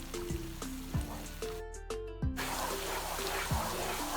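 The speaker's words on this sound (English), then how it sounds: "Now I'm going to add ginger garlic paste. And I'm going to cook that for 2 minutes." Ginger garlic paste frying with onions in hot oil for liver masala (kaleji ka salan) hisses and sizzles steadily under background music, with a brief quiet gap in the music midway.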